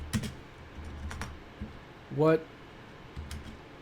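A few scattered computer keyboard keystrokes sound as a search is typed, with sparse quiet clicks and a brief tonal blip in between, under and around a speaking voice.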